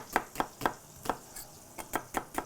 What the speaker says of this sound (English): you can julienne the onions. I'm cutting them with a little width on them, so they're not super thin